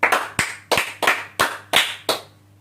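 A small group claps for a child in a class, with about seven distinct, evenly spaced claps ringing out close and clear with no talk over them.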